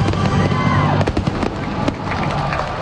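A fireworks display finale with dense overlapping bursts and crackling booms, loud and continuous, with a crowd audible underneath and some voices mixed in.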